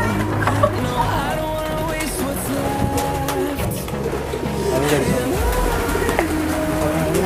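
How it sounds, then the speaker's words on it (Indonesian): Many pigeons, around fifty pairs of babu loloh pigeons, cooing together inside a loft, overlapping soft throaty coos from several birds near and far in a steady chorus. "Dalam kandangnya ini merpatinya banyak banget"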